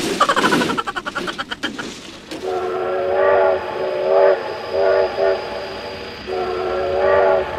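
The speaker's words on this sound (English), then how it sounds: "Oh my god, train!" A train in the BeamNG.drive video game sounds several loud sustained horn blasts in a rhythmic sequence, after a short burst of rumbling and clatter, with a brief shout.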